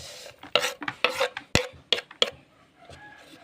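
Kinilaw ingredients with onion being tossed together in a bowl: a run of quick scraping, clinking strokes in an uneven rhythm, close and fairly loud, then dying down to near quiet.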